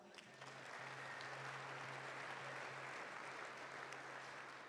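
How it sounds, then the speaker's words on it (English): Audience at an evening land acknowledgement and territory welcome applauds steadily, a dense, even wash of clapping holding at a constant level from start to finish with a faint low hum beneath. "Give yourselves a round of applause."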